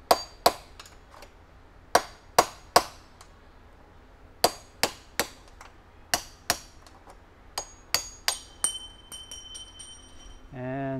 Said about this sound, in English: Time to use the hammer.